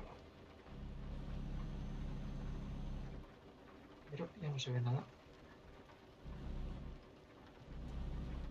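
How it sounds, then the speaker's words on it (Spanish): Steady rain drums on a car at night during a long motorway drive between Hannover and Frankfurt, a continuous broadband wash with low road rumble, briefly interrupted by someone talking in the middle. "Se pone a llover."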